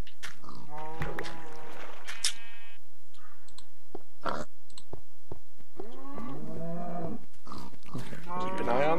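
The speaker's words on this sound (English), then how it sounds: "Keep an eye on the cow." Mooing and animal grunts from livestock in a Minecraft-style video game, several drawn-out lowing calls spaced apart, mixed with sharp clicks and taps between them.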